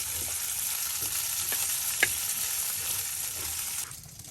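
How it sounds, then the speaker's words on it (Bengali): Fish sizzle steadily in hot oil in a pan while being turned over, with a few soft clinks and scrapes as the pieces are flipped. The frying is close and continuous and stops near the end. "মাছগুলো এখন দিতেছি উল্টা দেওয়া হইতেছে।"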